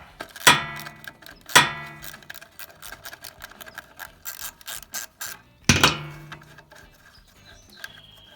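Metal ratchet clicking as 10 mm bolts are loosened on an old generator's air box, three sharp close bursts of rapid clicks with quieter mechanical fiddling between them.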